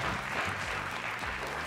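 A studio audience on a television quiz show gives a short burst of steady, many-handed applause, fairly close and even, with faint voices beneath.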